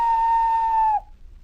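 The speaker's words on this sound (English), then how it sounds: "Thomas in return always whistles" Steam engine whistle from a small tank locomotive: one loud, steady, pure-toned blast held for about a second, then cut off sharply, leaving only a low rumble.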